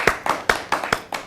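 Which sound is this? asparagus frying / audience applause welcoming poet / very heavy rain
audience applause welcoming poet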